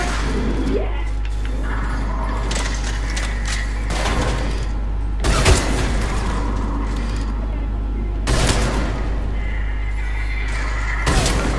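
Sniper rifle fire in the Mass Effect 3 multiplayer match on Firebase Giant: three sharp, loud shots spaced a few seconds apart, cutting through a steady mechanical game backdrop with speech nearby.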